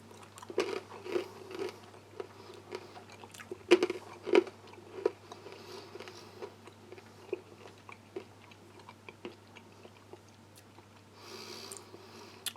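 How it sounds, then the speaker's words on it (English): Crunchy roasted ranch-flavoured chickpeas from a kosher U.S. Army MRE being chewed close to the mic, with irregular crisp bites and steady munching, louder crunches early on fading to quieter chewing, no talking. "I'm going to go and try the ranch chickpeas. Similar sort of idea. Some roasted chickpeas."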